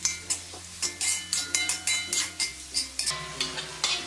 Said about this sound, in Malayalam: ഞാനിവിടെ ഹൈ ഫ്ലെയിമിലിട്ടിട്ട് തന്നെയാണ് വഴറ്റിക്കൊണ്ടിരിക്കുന്നത്.